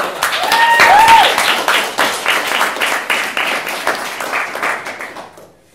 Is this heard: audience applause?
yes